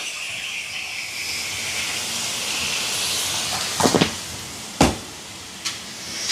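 Chicken and salt going into a hot frying pan with tomato, a steady bright sizzling hiss with a few clanks of a spoon or pan toward the end.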